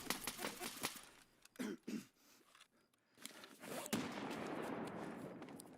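A grenade detonating in a video game firefight, heard among sharp scattered gunshots, with a heavy burst and lingering rumble near the end.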